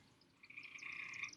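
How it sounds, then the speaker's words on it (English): Frogs croak in a backyard as a faint, rapid trilling chorus that swells and grows denser toward the end, with no voices. "The frogs are coming out too."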